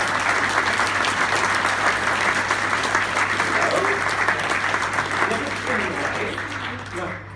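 An audience claps warmly to welcome a guest onto the stage at a car rally interview event: dense, steady applause from a large crowd, loud and sustained, easing slightly toward the end, with a low hum underneath.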